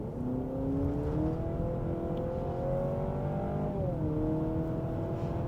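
A 2023 Honda CR-V Hybrid engine revs under hard acceleration from inside the cabin, a loud steady drone climbing in pitch and then dropping at a simulated shift before climbing again, with no talk over it.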